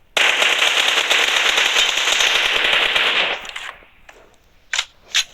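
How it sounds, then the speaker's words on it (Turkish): Rapid automatic gunfire from a shooter video game roars continuously for about three seconds, then breaks off into a quieter tail and two short, sharp bursts near the end, with no talking. "Sonra 20 mermi kalınca da yatıp adamı vuruyoruz."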